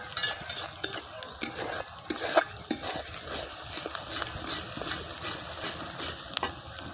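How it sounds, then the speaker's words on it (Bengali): Peas and spices sauté in oil in a pan for an egg chhana korma, giving a close, steady sizzle broken by irregular scrapes and light clinks of a spoon stirring against the pan, with no talking. "এই যে মটরশুঁটি এবং মশলা দুটোই কষানো হয়ে গেছে"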